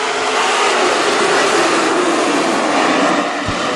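Super stock race cars roar together as they accelerate at the green flag on a dirt oval speedway, a dense, loud, steady engine wall with no gaps, sustained for the whole stretch.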